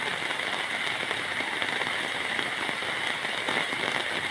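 Dense, steady heavy rainfall from a storm patters heavily on surfaces, a continuous hiss of drops with no voices.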